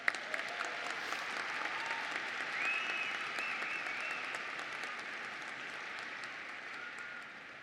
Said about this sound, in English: Please join me in giving them a round of applause.